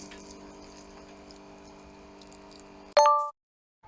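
Outdoor shower on a Hyundai Starex camper van, fed from a 20-litre fresh-water tank: a steady pump-like hum with water noise runs for about three seconds, then a sharp metallic clank, then silence.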